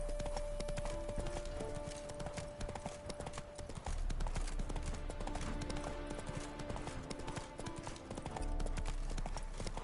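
Roach, the horse in The Witcher 3, gallops with a rapid, continuous drumming of hooves at close range, joined by faint game ambience and a brief tonal hum.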